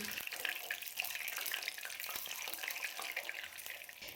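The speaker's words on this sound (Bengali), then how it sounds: "এবার এই ডিমটাকে একটু নাড়াচাড়া করে নিয়ে হালকা করে ভেজে নিতে হবে" A boiled egg lightly frying in hot oil, a steady bright hiss and crackle sustained throughout with small stirring touches, close and fairly loud, no voices.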